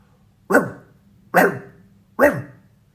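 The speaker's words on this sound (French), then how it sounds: "gronda-t-il, aboyant férocement." Three loud, fierce dog barks spaced about a second apart, sharp and close, with a low hum underneath.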